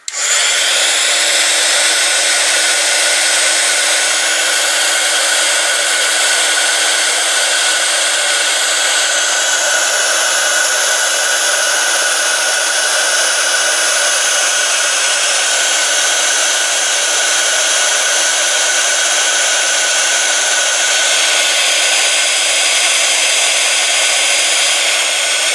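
A heat gun heating embossed snow on a poinsettia craft, blowing a loud, steady, close whooshing roar with a constant whine, running without a break.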